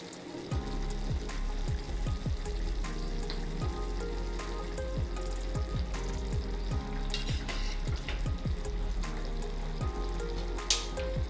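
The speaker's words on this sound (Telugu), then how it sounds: "ఇప్పుడు మనం ఈ రైస్ వేసుకుందాం." Rice tipped into a pan with roasted kasuri methi for paneer biryani, frying with a loud continuous sizzle and rapid repeated clinks of a spoon stirring against the pan, close and without talk.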